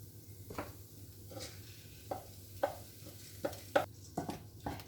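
Quinoa and fried onions being stirred together in a pan, a few soft scraping strokes and light clinks at irregular intervals, quiet and close, with no talk.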